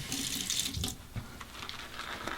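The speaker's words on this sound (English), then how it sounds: "Let's get a little more water in there." Water runs from a tap while someone wets a lather brush, a soft, continuous splashing stream that briefly dips before flowing again, fairly quiet and close with no talking.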